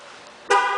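A short, sharp horn chirp from a 2010 Cadillac CTS-V locking sounds abruptly after a quiet moment, loud and close, then holds briefly.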